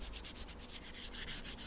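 Sandpaper rubs along the corner edges of a painted wooden ornament, making a close, continuous scratchy rasp with quick back-and-forth strokes, faint in level and with no voices.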